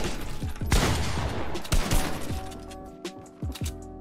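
Shotgun blasts in a Fortnite box fight, several sharp loud reports with crashing building impacts between them, close and dense early, then sparser shots toward the end.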